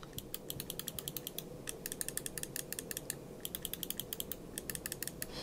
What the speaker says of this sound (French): Alors moi j'aime bien le clic, on va essayer d'écouter ça de suite.